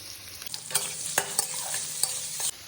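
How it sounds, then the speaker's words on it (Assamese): Half-boiled potatoes fry and are stirred in a pan, a steady sizzle broken by repeated scraping and clattering strokes of a utensil, close and moderately loud with no talking. "প্ৰথমতে এই আধা সিজা কৰি লোৱা আলুকণ ভাজি ল'ম।"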